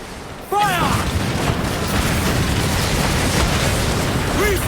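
Ship cannon fire aboard a sailing vessel in Assassin's Creed Black Flag, a sudden loud blast that opens into sustained rumbling battle noise, with shouted crew voices over the din.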